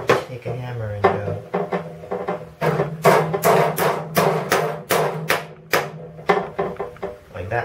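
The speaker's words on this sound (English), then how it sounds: "just take a hammer and go" A hammer strikes repeatedly during assembly of a homebrew magnetic loop antenna: loud, close, sharp knocks in irregular bursts, some quick double taps, filling the whole stretch with short gaps between blows.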